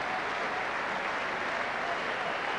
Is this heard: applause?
yes